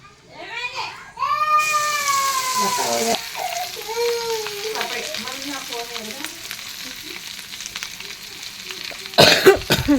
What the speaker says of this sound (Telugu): ఇలా తయారు చేసుకున్న పచ్చడిని మనం ఇప్పుడు ఆయిల్లో వేసుకోవాలి